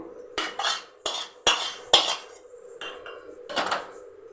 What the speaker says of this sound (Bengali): এবার একটি পাত্রে এটাকে ঢেলে নিন